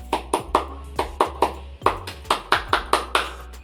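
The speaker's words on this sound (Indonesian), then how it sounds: "Oke, sekarang kita akan masuk ke tepuk pramuka." Hand claps of the Pramuka scout clap, a rhythmic pattern of about fifteen sharp claps in short grouped bursts, close and clear with no talking over them.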